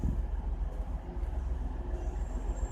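A TransPennine Express train at Huddersfield, waiting to depart, produces a low idling engine rumble that pulses gently and continuously, with a faint high tone near the end.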